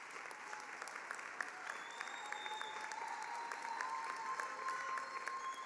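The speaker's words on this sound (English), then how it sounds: "Another round of applause for our new Menkosa alumni." Crowd applauding new Menkosa alumni at a graduation ceremony, a steady, fairly distant wash of clapping that holds evenly throughout with a few whistles rising over it.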